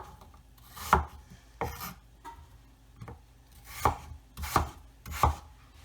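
A knife chops apples into small cubes on a cutting board, a series of about six distinct, close, fairly loud thuds at an uneven pace with quiet pauses between them.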